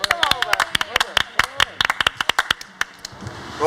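A small pub audience claps for a guest named Robert, a short burst of scattered, uneven hand claps that thins out after a few seconds, with voices talking over it.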